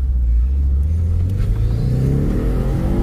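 Car engine revving hard and accelerating, a loud low rumble whose pitch climbs steadily over a few seconds, close and continuous with no talk.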